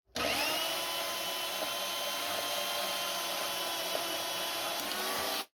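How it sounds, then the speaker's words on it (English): A power cutting tool slices through a stuck bolt, giving a continuous high, loud whine that runs steadily for about five seconds and then stops abruptly. "the only way I'm going to get that off is to cut it off."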